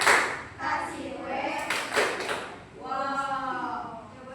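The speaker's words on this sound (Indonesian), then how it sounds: "Oke, beri tepuk tangan untuk kelompoknya." Children in a classroom clap for a group, brief uneven clapping mixed with thumps and lively voices of kids talking and calling out.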